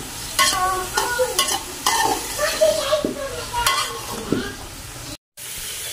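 Vegetables frying in a pan in a village kitchen, with a steady sizzle under repeated scraping and stirring clicks of a utensil against the pan, close and fairly loud, with a brief cut to silence near the end.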